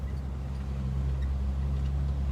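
A Jeep Wrangler TJ fitted with a modified exhaust cruises down the road, its low, even exhaust drone humming steadily up close with no pauses or other sounds.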